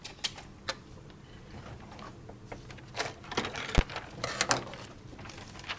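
Scissors cut pieces off a sheet of paper in a children's craft activity, making a series of sharp, close snips and crisp rustles that grow busier toward the end.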